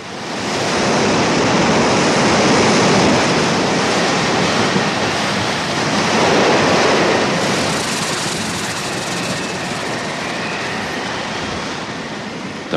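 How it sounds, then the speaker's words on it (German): Loud, continuous roar of ocean waves crashing and churning nearby, a dense wash of surf with slow swells in intensity and no voices. "Diese Wellen hier, die könnten Mauern zerbrechen."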